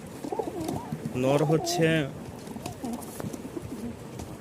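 Rajshahi Giribaz pigeons coo in a few harmonic bursts near the middle, close and fairly loud, with someone speaking before and after.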